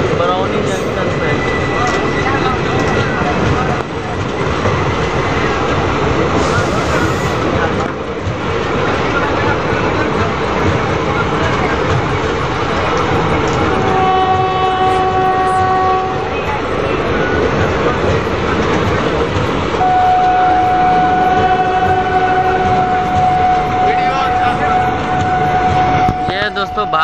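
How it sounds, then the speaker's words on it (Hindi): An Indian intercity express, the Rajendra Nagar Patna–Saharsa train, pulls out of New Barauni Junction as heard from inside a general coach. A loud, steady rolling rumble runs throughout, with sustained tonal notes that may be the horn near the middle and end. "दोस्तों 2 मिनट होल्ड के बाद अपनी ट्रेन निकल चुकी है न्यू बरौनी जंक्शन से"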